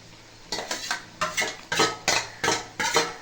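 Raw chicken is mixed with a ground paste of chili, garlic and ginger for village-style chicken gravy: about eight brisk, evenly spaced scraping strokes of a spoon against a vessel, close and clear, with no talking.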